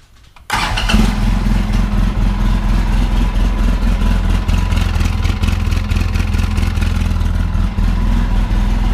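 A Polaris RZR 800 side-by-side engine, running slightly louder than stock after a fuel pump replacement, catches after a brief quiet start and then idles steadily and loudly nearby, with a smooth continuous rumble and no talk.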